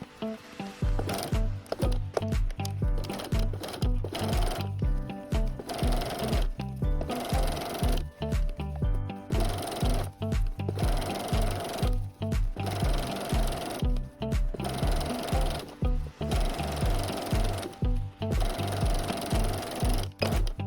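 A sewing machine runs steadily, putting a 1/8 inch top stitch around a circular fabric jar lid cover. The rapid rhythmic needle chatter is loud and close and continues almost unbroken, with brief pauses and no voices.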